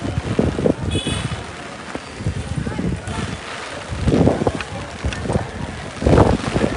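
Strong wind buffets the microphone at the Dwarka temple during rain, roaring in loud gusts with the heaviest bursts near the end, while someone talks over it.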